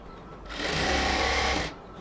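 A sewing machine runs a burst of stitching along a cotton palazzo seam, starting up sharply, humming steadily for over a second, then stopping, with no voices.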